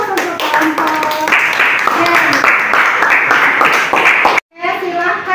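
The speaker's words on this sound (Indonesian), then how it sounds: "Kita beri aplaus untuk kelompok." Audience clapping for a presenting group in a classroom session, dense, steady applause from many hands, close and loud, with voices mixed in before a brief pause and more clapping.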